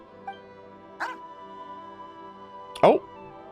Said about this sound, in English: Is this your dog? It's very cute.